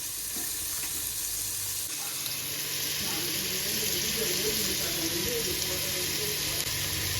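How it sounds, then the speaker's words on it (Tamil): Onion and garlic sauté in hot oil with a steady, even sizzle as they are stirred while cooking for a mango, egg and fish gravy, and the frying sound stays continuous throughout. "வெங்காயத்தை சேர்த்து நல்லா வதக்கலாங்க. பூண்டு சேர்த்து நல்லா வதக்கலாங்க."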